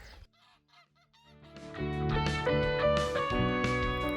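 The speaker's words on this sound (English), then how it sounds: "I think there's a load of chickens in there" A flock of chickens in the Algarve, Portugal, squawking together, growing louder and denser after a quieter, scattered start, with overlapping calls close by.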